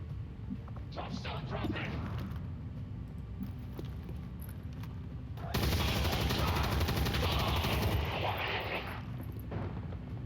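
Gatling gun fire in the video game XCOM 2, heavy rapid gunfire that swells into a loud sustained roar midway, then eases back to a lower rumble of battle noise.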